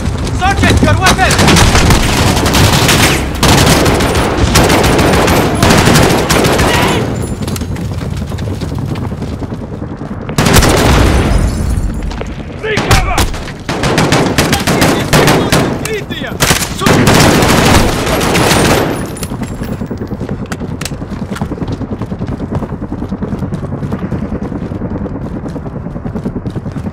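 Heavy battle gunfire in the Call of Duty Modern Warfare campaign, with continuous rifle and machine gun bursts, booming explosions and dense combat noise throughout, alongside shouted soldier dialogue.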